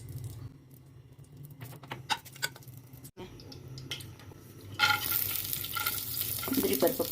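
Ghee goes into a pan while rice halwa is being made, starting with soft scraping and clinks, then rising into a louder, steady frying sizzle close by.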